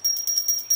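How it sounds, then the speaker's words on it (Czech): Small black witch bell decorated with a pentagram gives a soft, delicate high tinkle with a few quick rings in under a second. "zvoneček, krásný černý zvoneček s pentagramem. Má takový jemňoučký zvuk"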